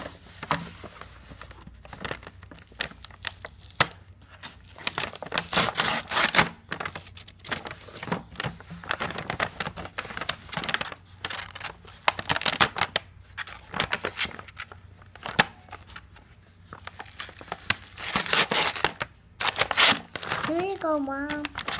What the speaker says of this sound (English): Let's see what we'll unwrap today.